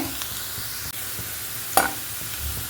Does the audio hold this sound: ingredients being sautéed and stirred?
yes